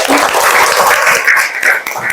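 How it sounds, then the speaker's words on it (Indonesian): A group of people clap together after a breathing exercise in a class session, a brief close burst of hand claps that swells and dips slightly before trailing off. "Oke, tepuk tangan buat kita semua."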